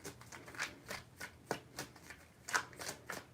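Tarot cards being shuffled by hand, soft close riffling swishes in a loose rhythm of about a dozen quiet strokes, with no talk.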